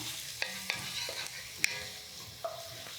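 Sazon Goya sizzles in a pan with garlic for lentil soup, a brief, soft frying hiss broken by several sharp clicks of a utensil stirring against the pan.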